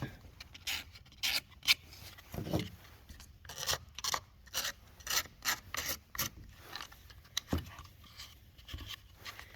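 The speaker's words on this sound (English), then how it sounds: "I just take a razor blade and take off the little bit of flash here" A razor blade trims plastic flash off a MaxFlow MS500i chainsaw cylinder shroud, producing close, quiet, irregular scraping and rasping strokes in short repeated bursts with no talking.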